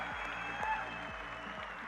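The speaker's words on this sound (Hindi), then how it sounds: "अगर आप सहमत हैं तो ताली बजा दीजिए दोस्तों" Audience clapping at a motivational seminar, a steady dense patter of many hands that fills the whole moment at moderate loudness, with a faint voice underneath.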